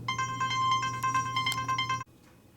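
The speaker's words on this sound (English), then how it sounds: "that was the phone ringing" A telephone ringing electronically with a rapid pulsing trill, loud and close, that stops abruptly after about two seconds.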